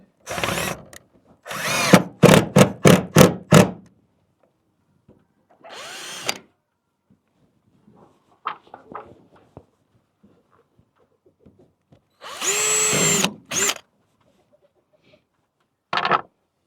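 A power drill whirs in short bursts during a shed build, a quick series of trigger pulls, then longer runs after quiet stretches with faint handling noises.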